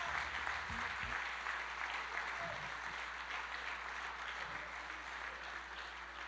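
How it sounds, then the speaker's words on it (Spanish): A church congregation applauds as a continuous faint wash of clapping, heard at a distance over a low steady hum. "Despidámoslos con un fuerte aplauso a todos ellos"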